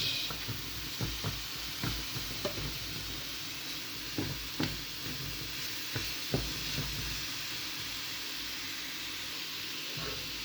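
Cauliflower rice frying in a tablespoon of oil in a pan while being stirred, a soft steady sizzle broken by repeated scraping strokes of the spoon at an irregular rhythm, close and fairly quiet.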